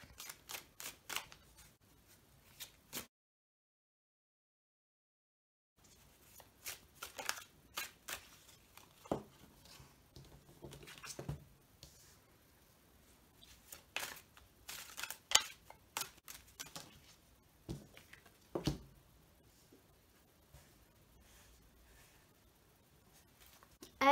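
Tarot cards being shuffled and laid down, with a series of short crisp flicks and slaps close by, a brief silent gap early on, then irregular card snaps and soft shuffling with no talk.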